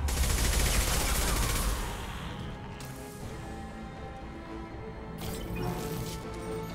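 Heavy gunfire rattles through a firefight in the video game Mass Effect 2: dense volleys of shots at first, then a quieter stretch, and a fresh burst near the end.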